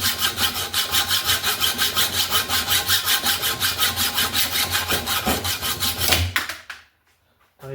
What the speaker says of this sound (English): Now I'm just going to run my hacksaw against the nut